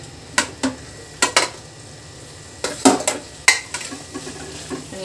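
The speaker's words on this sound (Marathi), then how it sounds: "हे सगळे परतून घ्यायचे।" Chicken pieces sauté in a pan for chilli chicken, with soft sizzling under a series of sharp utensil scrapes and clinks against the pan, spaced irregularly and fairly close.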